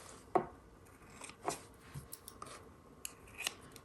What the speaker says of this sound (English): Okay, let's trim the ends.